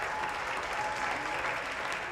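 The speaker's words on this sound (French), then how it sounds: "Applaudissements, s'il vous plaît" A studio audience on a television talk show applauds in a dense, steady wash of clapping that holds evenly throughout.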